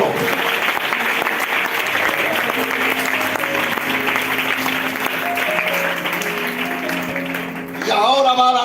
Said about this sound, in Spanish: Puedes aplaudirle, las hermanas han tenido que aplaudir al maestro